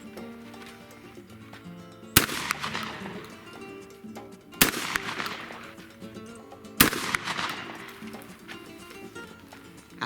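Shotgun firing reloaded shotshells, three loud sharp blasts spaced a couple of seconds apart, each with a ringing echoing decay, over a low outdoor background.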